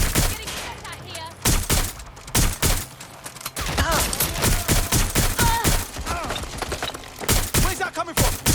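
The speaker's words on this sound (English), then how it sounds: "I'm taking some heat over here! Getting shot at here." Gunfire in the video game Watch Dogs: Legion rattles out in loud, dense rapid bursts and volleys, nearly continuous with brief gaps, close and dominant throughout.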